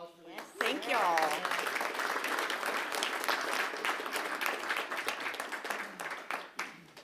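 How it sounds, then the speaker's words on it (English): Audience applause at a school board regular meeting, a burst of many hands clapping that swells quickly and holds steady for several seconds, with a brief voice at the very start. "Let's have a big round of applause"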